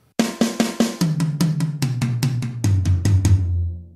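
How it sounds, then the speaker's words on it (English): Roland V-Drums tom-toms carry a four-bar rhythm, four strokes on each drum, stepping down from higher to lower toms in an even, steady pattern of crisp, close hits. "we're going to spread it around on the tom-toms"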